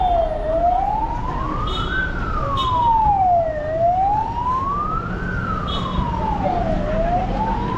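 Ambulance siren wailing through street traffic in Hargeisa, Somaliland: a loud, nearby tone that slides slowly up and down in long even sweeps, with a low rumble of traffic underneath.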